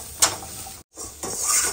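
Pasta sauce ingredients sautéing in a pan, brief scraping and clinking of a utensil stirring against the pan with a soft sizzle, split by a short silent gap.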